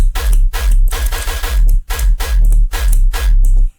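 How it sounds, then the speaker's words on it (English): A synthesized metallic tearout gun bass built in Ableton Live, loud and aggressive, with heavy sub-bass under gritty, ringing metallic bursts chopped into a stuttering rhythm of repeated hits. "the gun sound we're making today sounds like this"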